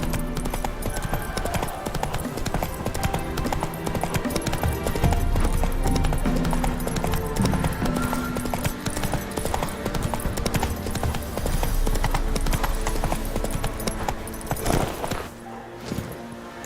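Galloping hooves of Roach, the horse in The Witcher 3, beat in a continuous, fairly loud rhythm with a low rumble underneath. The pace holds steady for the whole stretch.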